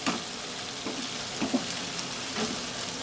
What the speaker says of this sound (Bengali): এটাকে একটু এর সাথে সব চিকেনগুলো দিয়ে দেবো, এবারে দিয়ে একেবারে কষতে থাকবো।